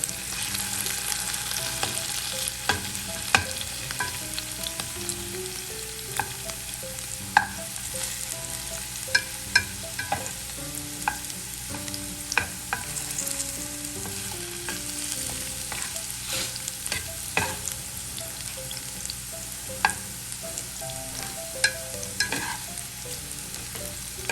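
Potatoes and carrots searing in a pan for Filipino beef mechado, a steady low sizzle of frying with frequent scraping stirs and small clacks throughout, no voices.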